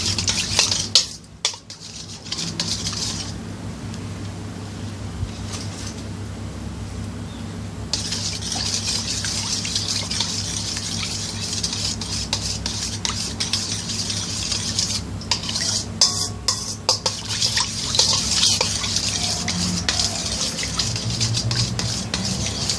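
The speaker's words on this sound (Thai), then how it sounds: "คนให้มันแตก" A spoon stirs sugar and agar powder in a metal pot for coconut jelly, with continuous scraping and clinking against the pot and bursts of rattling, close and fairly loud with no talk.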